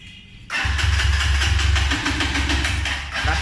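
A motorcycle engine cranks with a steady rapid chugging whir for about three seconds after a brief quiet start, close and loud, without catching into a running idle.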